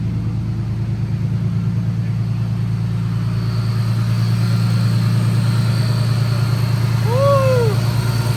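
A supercharged BMW E46 M3 idles steadily with an even, pulsing exhaust burble heard up close, and a brief whistling squeak rises and falls near the end.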